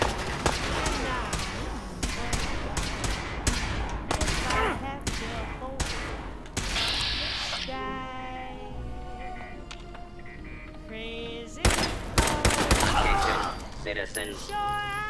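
Gunfire in Fallout VR: sharp, loud shots come in clusters, some rapid and some spaced, with thumps between them, while a person talks and a game voice makes announcements.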